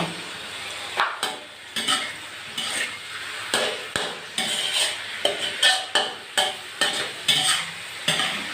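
Vegetables stir-fry with roasted chili paste in a hot pan, with repeated scraping and clanking strokes of a spatula in a steady rhythm over a constant sizzle, close and loud.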